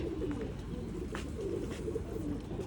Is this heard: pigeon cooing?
yes